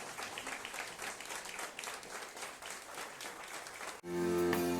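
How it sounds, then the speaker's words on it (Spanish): A church congregation claps at the close of a sermon, a steady, dense wash of applause for about four seconds, then a sustained musical chord cuts in and takes over. "Dale ese aplauso al Rey, iglesia"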